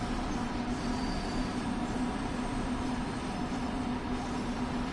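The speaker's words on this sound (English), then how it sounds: "Should be another freight train here in a second." A freight train rolls past in the Train Sim World 2 video game, a constant dense rumble and rail hum with a steady tone, holding at an even loudness throughout without any talk.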